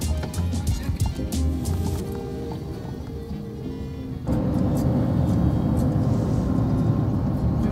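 A truck pulls into a dump with a steady, close engine rumble and road noise that grows louder and rougher about halfway through as it rolls in.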